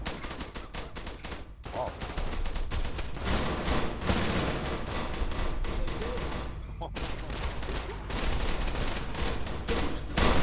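Video-game gunfire erupts in dense automatic bursts and rapid volleys, loud and near, sustained across the stretch with only brief pauses, while a voice shouts over the shooting.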